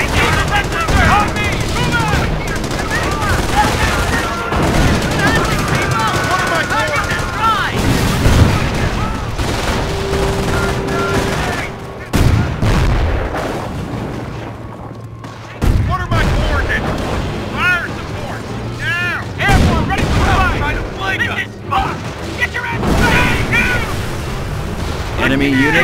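Dense gunfire and explosions from the WWII strategy game Company of Heroes, Carentan counterattack map: continuous machine-gun bursts and rifle shots with heavy booms, loud and unbroken, mixed with in-game soldier radio chatter.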